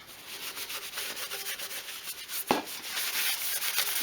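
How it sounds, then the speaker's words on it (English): Scuffing and degreasing the painted metal surface of a vintage oil can by hand, a steady close rubbing and sanding scrape that runs on continuously, with one sharp knock midway. "just go over the whole thing, just to try and key it up a little bit and remove any grease and dirt"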